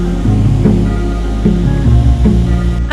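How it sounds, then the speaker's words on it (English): The Jewel indoor waterfall at Changi Airport in Singapore, the largest indoor waterfall, gives a loud, constant rushing roar with stepped musical tones playing over it. "overlooking the world-famous Jewel Waterfall, which is the largest indoor waterfall"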